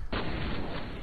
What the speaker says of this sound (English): That explosion was big.